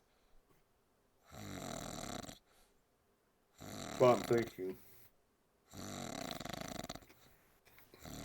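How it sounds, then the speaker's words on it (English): A person snoring softly in slow repeated breaths, three drawn-out rasping snores separated by pauses, with someone speaking briefly between them. "I think I heard him snoring a little bit"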